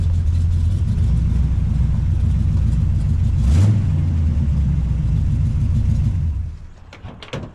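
A 1964 Chrysler 300K, a freshly finished project car, rumbles close by with a steady low engine drone that swells briefly mid-way, then cuts off near the end, followed by faint clunks.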